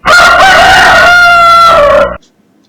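A rooster crows one long, loud cock-a-doodle-doo up close, its strained call holding steady for about two seconds before cutting off into silence.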